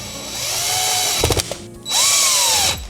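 A powered screwdriver on an extension turns a Phillips screw on a Kranzle 1622 pressure washer during maintenance: two close, loud bursts of whirring with rising and falling pitch, separated by a few quick rattling clicks.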